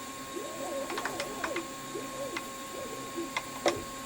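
A small milling machine cuts into a large metal plate held in a vise, giving a steady low hum with wavering tonal whines and scattered sharp clicks and chatter from the cutter.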